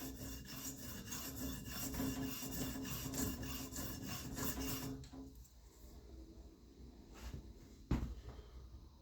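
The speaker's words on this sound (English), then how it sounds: "we're going to grind this side until the burr moves the other way" An EDC knife edge rasps against a sharpening stone in steady back-and-forth strokes for about five seconds, then quieter scraping follows and ends with a single sharp knock.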